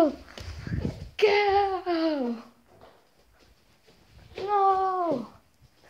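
A cat meows twice in long, drawn-out, wailing calls, close and loud, with a short gap between them while a young voice speaks briefly.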